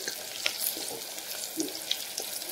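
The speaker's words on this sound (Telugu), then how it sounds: "ఇలా ఆనియన్స్ ఈ కలర్ వచ్చేంత వరకు ఫ్రై చేసుకోవాలండి." Onions fry in a pan for a brinjal pulav, a steady close sizzle with small pops and occasional stirring scrapes, no voices.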